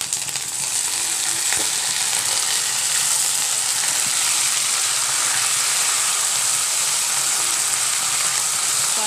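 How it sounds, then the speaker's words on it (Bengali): Water poured into a pan of onions fried until brown raises a loud, close, continuous hissing sizzle that holds steady throughout with no talk. "এখন আমি এটার ভিতরে অল্প পরিমাণ পানি দিয়ে দেবো।"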